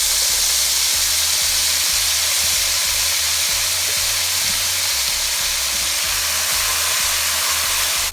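Onion mixture with cumin and curry powder frying in hot oil for a corned beef and egg stew, a steady loud broadband sizzle and hiss throughout, with a low rhythmic hum underneath.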